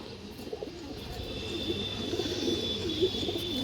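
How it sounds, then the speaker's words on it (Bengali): Big-headed pigeons coo in a row of soft, low calls over a steady background hiss, fairly close and without talk. "এটা কিন্তু বড় মাথার কবুতর"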